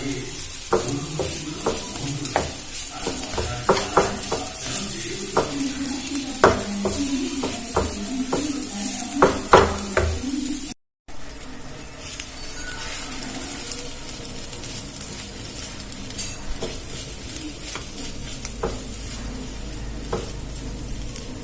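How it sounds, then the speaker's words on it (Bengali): A grated mixture for a Bengali-style snack fries in a pan while being stirred, giving a soft continuous sizzle broken by repeated scraping clicks of the spoon, with a brief gap partway through. "এবার এটা খুব ভালো করে এর সঙ্গে মিশিয়ে ভালো করে ভেজে নেব"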